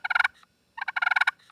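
Two quick bursts of loud, close yelps from a push button turkey call, separated by a brief silence, the second run longer than the first.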